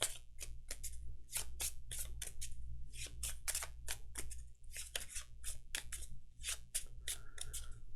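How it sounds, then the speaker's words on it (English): Arkham Horror card-game cards are shuffled by hand in a quick series of crisp flicking clicks, irregular bursts close up over a low hum, with no talking. "these three have to go back and I'm going to shuffle it"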